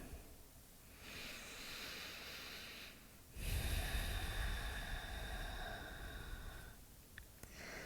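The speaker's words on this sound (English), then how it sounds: "Take big, luxurious inhales. And as you exhale, try to make the breath just as long as your inhale." Slow, deep breathing in a vinyasa flow yoga class, long drawn inhales and matching exhales heard as soft, close airy rushes that swell and fade, with no talking.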